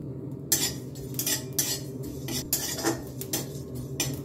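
Whole cardamom, cloves, cinnamon and cumin seeds dry-roast in a pan with no oil. Close-up stirring produces repeated metallic clinks and scraping bursts over a low steady background, with no talking.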